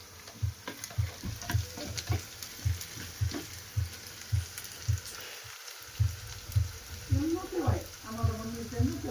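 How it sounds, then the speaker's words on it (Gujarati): Garlic frying in hot oil for a tempering in a home kitchen, a steady sizzle with regular rhythmic stirring pulses, while voices talk faintly in the background. "જો લસણ નાખી દીધું છે, તળાય છે, વઘાર થાય છે"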